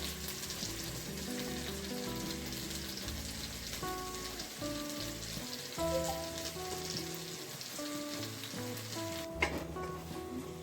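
Tomatoes fry in a pan for egg biryani with a soft, steady sizzle and crackle, broken by a few light stirring taps near the end.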